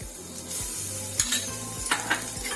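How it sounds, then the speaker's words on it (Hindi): Chopped garlic and grated ginger sizzle in hot ghee while a spoon stirs and scrapes the pan in steady strokes, with a few sharper clinks against the metal; close and fairly quiet, no talking. "लहसुन और अदरक को लगातार चलाते हुए 2 मिनट भूनेंगे।"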